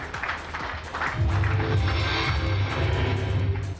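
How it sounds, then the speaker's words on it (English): An audience at a Huawei smartphone launch event gives a warm round of applause for a speaker taking the stage, a dense, steady wash of clapping that holds at a fairly even level over a low background hum. "Ladies and gentlemen, please put a warm round of applause to Mr. Liu."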